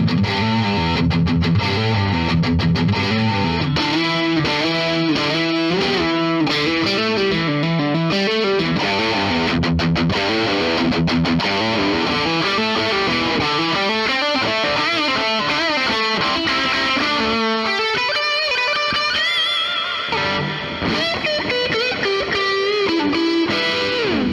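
A 2007 Gibson Les Paul 25 electric guitar, heavily distorted, plays a long, loud passage of chugging riffs and sustained chords, continuous and close, with no voices.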